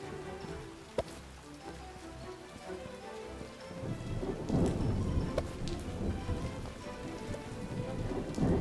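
Rain pouring steadily in a fantasy video game, with a sharp thunder crack early on and rumbling thunder building as the downpour grows heavier and louder.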